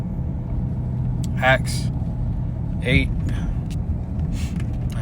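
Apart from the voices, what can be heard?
car driving, heard from inside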